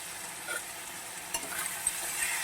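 Spice paste with chili and salt being sautéed for a rohu fish curry gives a soft, steady sizzle with occasional spatula scrapes and stirring knocks in the pan, close by and without talk.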